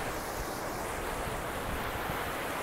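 River water rushing steadily beneath a trail bridge on the Appalachian Trail, a continuous broadband wash with light wind buffeting the microphone, close and fairly loud with no talking.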